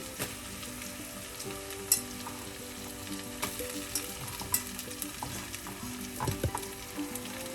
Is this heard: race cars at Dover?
no